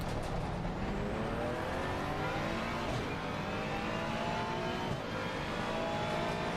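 Race cars in the racing simulator Assetto Corsa Competizione, played on a Cammus C5 wheel: engines rev and whine continuously with rising and falling gear pitches, loud and close, as other cars run alongside.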